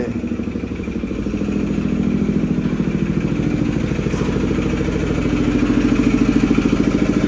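Motorcycle engine idling with a steady, close mechanical rumble and light rattle as the bike is brought out, continuous for several seconds with no speech.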